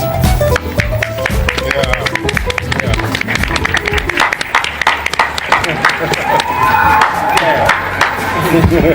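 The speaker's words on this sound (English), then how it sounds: "he'd fire up the crowd himself until the applause finally matched the moment" Lively crowd applause and cheering with sharp, irregular claps and loud voices mixed in, busy and close.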